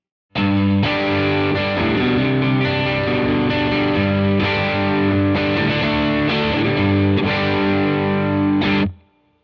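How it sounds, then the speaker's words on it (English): A Fender Vintera '60s Jaguar on its neck pickup, mid cut off, plays a warm, distorted continuous chord pattern, loud and up close, ringing out before ending abruptly. "All right, let's listen to the neck pickup"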